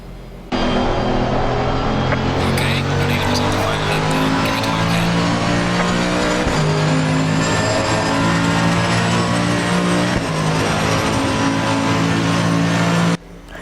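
Race car engines roar steadily in a racing video game, a dense continuous drone of multiple cars around a Mustang heading into a braking zone, with shifting engine pitch throughout.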